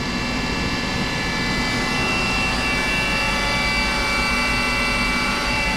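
A Fadal 4020 CNC vertical mill's spindle runs at 3000 rpm, giving a steady, continuous machine whine with a fixed tonal hum over a broad airy hiss. It stays even and unbroken throughout, with no talk.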